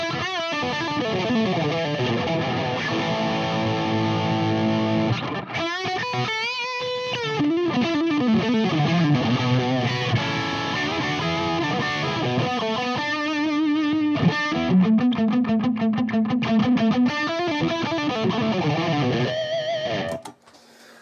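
Electric guitar played through a Masotti OD Box distortion pedal, pushed into heavily compressed, gritty overdrive from an already intense distortion; sustained chords and single-note riffs ring loud and continuous, with no voice over them.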